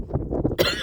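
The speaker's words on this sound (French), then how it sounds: "je tousse. Je tousse." A woman coughs outdoors in dusty air, one short, close burst of coughing with a breathy rasp.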